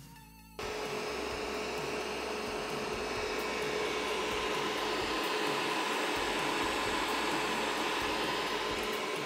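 A resin 3D printer, an Elegoo Mars 2 Pro, runs with a steady, soft mechanical whir and faint hum, starting abruptly after a brief quiet moment and continuing evenly nearby.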